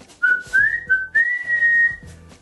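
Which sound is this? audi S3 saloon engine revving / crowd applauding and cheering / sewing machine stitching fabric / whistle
whistle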